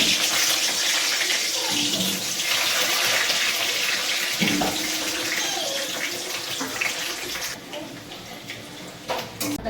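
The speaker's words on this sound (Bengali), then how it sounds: "তেলটা গরম হয়ে গেছে, আলুটা দিয়ে দিলাম।" Potatoes dropped into hot oil beside marinated meat in a home kitchen, a loud continuous hiss and bubbling sizzle that fades slightly toward the end.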